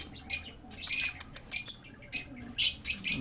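An African lovebird hen squawks in a rapid series of sharp, shrill calls, about eight close bursts coming in quick succession near at hand.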